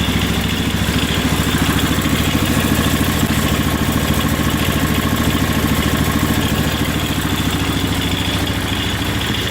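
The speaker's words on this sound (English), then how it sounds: "That rattling noise is the variator pulley" A John Deere lawn tractor engine idling steadily and loudly up close, with a dry, loose belt letting the variator pulley rattle continuously under the even engine drone.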